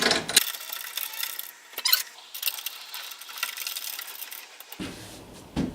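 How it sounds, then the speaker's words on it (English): Quick release clamps being twisted tight onto a single mount, giving a cluster of small clicks and light metallic clinks close to the mic, with short sharp bursts near the start and end and quieter handling in between. "Now you're ready to put your quick release clamps right on in there and twist them down."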